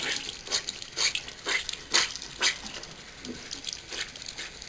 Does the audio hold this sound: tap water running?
yes